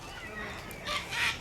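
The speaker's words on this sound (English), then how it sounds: "Yeah, but these birds. These are the ones that sound like the monkeys." Large parrot-like birds in Australia give two short, harsh calls in quick succession, moderately distant and fairly faint over a steady outdoor background.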